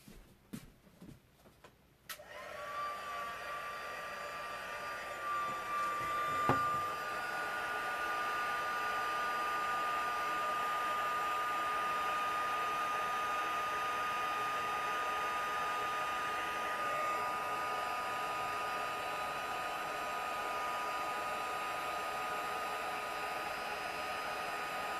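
A heat tool melting embossing powder on a stamping project blows with a steady, even whirring hiss after a click switches it on, running continuously and fairly quietly with a faint tone.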